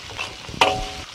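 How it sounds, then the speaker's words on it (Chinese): Sichuan peppercorns tossed into doubanjiang chili oil over low heat give a short burst of close sizzling and a spatula stir, starting partway through the brief moment and then fading. "小火慢慢的把豆瓣酱的红油给它炒出来，然后给它来上几个花椒"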